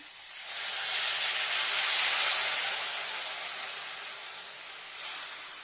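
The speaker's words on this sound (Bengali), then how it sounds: "অল্পখানি জল দিয়ে দিলাম।" A little water poured into a hot pan of frying bottle gourd stems sets off a loud, sustained steamy hiss that swells and then slowly fades, with a brief flare near the end.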